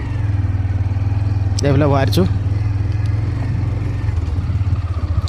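A motorcycle engine idles steadily close by while the bike is being parked, a low continuous rumble, with someone talking briefly over it.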